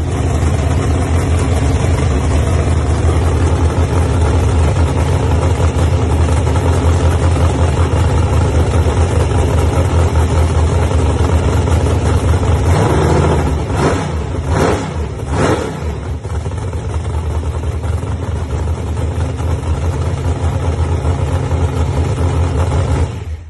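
A small-block race car engine with AFR 220 cylinder heads runs loud and steady at idle, then blips through a few sharp revs midway before settling back to a rough, continuous idle.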